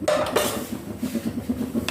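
Metal dishes and utensils clink and knock together as they are washed and set away in a home kitchen, a few close, distinct clatters.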